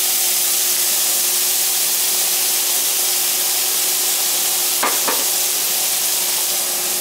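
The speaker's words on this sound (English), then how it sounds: "Throwing the green peppers" Green peppers frying on low heat in a pan, a steady loud broadband sizzle held throughout, with a couple of brief clatters near the end.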